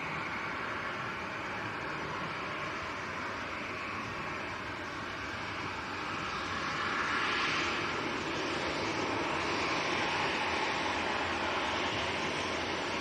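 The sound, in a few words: Ryanair airliner taxiing or departing at Manchester Airport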